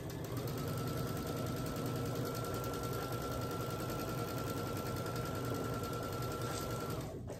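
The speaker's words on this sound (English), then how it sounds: "We're going to take these 2 up here, right sides together, and sew down that seam, down that side at 1/4 inch." An electric sewing machine stitches a quarter-inch quilt seam on a table runner, giving a fast, even whirring hum that runs steadily and fairly quietly from start to finish.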